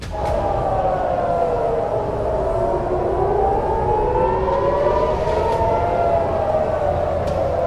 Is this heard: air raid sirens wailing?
yes